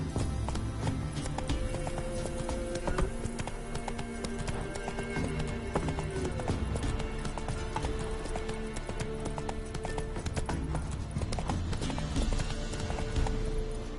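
Roach, the horse in The Witcher 3, galloping with a fast, steady clip-clop of hooves, loud and close throughout, with occasional faint voice and game sounds underneath.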